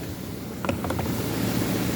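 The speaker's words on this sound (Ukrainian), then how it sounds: "такий напор, що через сітку вилітає вода" Inside the tank of a 24 m Bohuslav Titan crop sprayer, water jets forcefully through the mesh strainer, a steady close rushing splash with a few brief clinks at the start.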